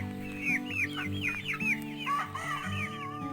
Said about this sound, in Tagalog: Three months po na Plymouth Barred Rock PBR breed